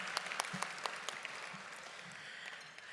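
Dinner guests at the Confederation Dinner applaud in a room with fairly faint, even clapping and a few sharper claps standing out. It carries on steadily without voices.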